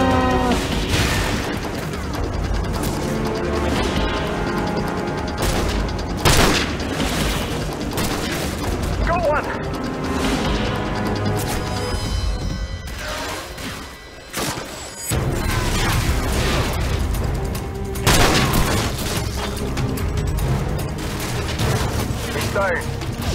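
Call of Duty 4: Modern Warfare combat fills the scene with repeated booms, crashes and bursts of gunfire, loud and near, while someone talks intermittently over the battle noise.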